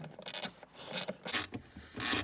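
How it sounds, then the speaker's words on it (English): An 8mm socket turning out a screw from the air vent of a 1999 Ford F150, giving quiet, close, intermittent ratcheting and scraping bursts. "you want to get an 8mm socket. I'm going to take out this green screw first"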